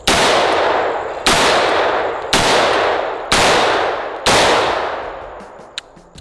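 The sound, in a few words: gunshot from a surplus Zastava revolver firing .38 rounds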